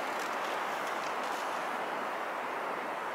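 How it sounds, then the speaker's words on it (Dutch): Wind blowing steadily through a forest beside a walking road in Sweden, a soft, even broadband rush with no distinct gusts, faint and alone. "Het enige wat je hoort is de wind."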